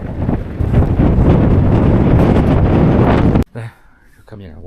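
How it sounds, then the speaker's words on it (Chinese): Strong gale-force wind on a high-altitude Tibetan plateau cycling route buffets the microphone in a loud, continuous roar, then cuts off abruptly as a voice speaks briefly. "今天晚上10级大风预警"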